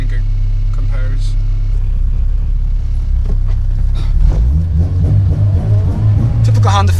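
An Acura RSX engine drones steadily at close range inside the moving car, a continuous rumble that climbs in pitch toward the end as the revs build, with no talk over it.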